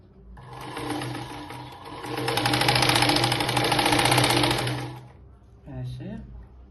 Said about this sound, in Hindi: इस तरह से सिलाई लगा देती है।